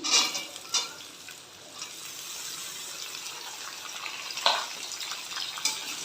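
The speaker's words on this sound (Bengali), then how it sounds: "এবার আমি এর মধ্যে এখানে পেঁয়াজগুলো দিয়ে দিচ্ছি" Potatoes and onions fry in a pan with a steady sizzle, broken by a few scraping stirs and soft clinks of a utensil, close and fairly quiet.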